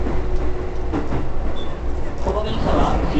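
A Keikyu New 1000 series electric train with PMSM motors rumbles and clatters as it pulls away from Yokohama station, with a low steady drone and some faint voices in the background.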